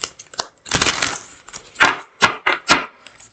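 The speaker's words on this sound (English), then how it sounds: "2 more shuffles." A deck of cards is shuffled up close in a series of short, crisp riffles and flutters, with brief pauses between bursts and no talking.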